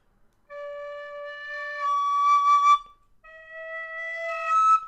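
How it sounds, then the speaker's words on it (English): Two clear, pure tin whistle notes played in sequence, the second a held high D, higher and brighter, sounding alone with no other noise. "I go up to a really nice high D whistle"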